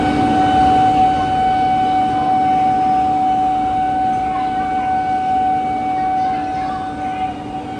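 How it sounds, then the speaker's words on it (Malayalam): A Bandra Terminus–Jaipur nonstop special train hauled by a WG9 goods locomotive pulls away, with a loud, steady locomotive drone, sustained tonal hum and rumble running unbroken throughout. "നമ്മുടെ Bandra terminus Jaipur non stop special അങ്ങനെ യാത്ര ആരംഭിച്ചിരിക്കുകയാണ് WG9 ഗുഡ്സ് ലോക്കോ ആയിട്ട്"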